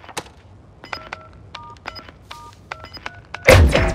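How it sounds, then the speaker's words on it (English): Bomb being planted and armed in Call of Duty: Modern Warfare, a run of short electronic keypad beeps in a steady rhythm, then a sharp louder burst at the end. "Our bomb is set."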